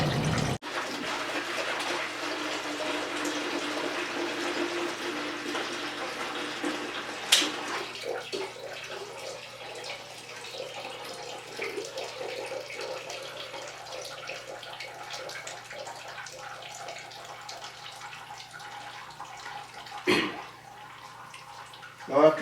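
Water rushes from a freshly thawed water line after the pump is switched on, a steady close splashing flow that eases into a softer trickle, broken by a few brief knocks.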